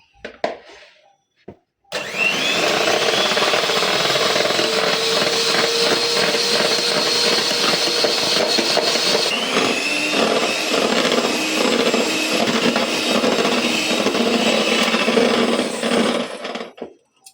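An electric mixer whirs loudly and steadily for about fifteen seconds, beating zebra cake batter into foam, starting abruptly after a short quiet lead-in and cutting off at the end.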